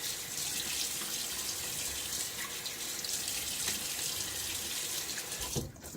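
Tap water runs steadily into a sink while a face is rinsed after a wet shave with a Gillette Nacet blade, a continuous close hiss with a brief splash near the end.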